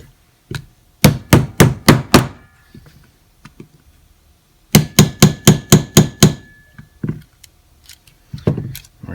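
A metal trigger pin tapped into a pistol frame during a short stroke trigger kit install on an SCCY pistol: two bursts of five or six sharp, evenly spaced hammer taps, close and loud, with a few lighter clicks between them and no talk.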